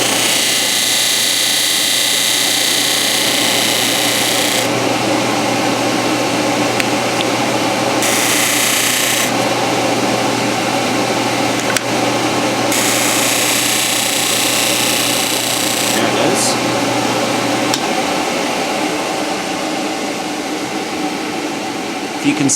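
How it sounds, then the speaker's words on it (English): A sanding disc grinds a guitar nut held flat in a jig, producing a steady, loud abrasive whir with a continuous motor drone throughout and bursts of brighter hiss as the nut contacts the disc. "I have a jig now which helps me get absolutely parallel to my sanding disc here."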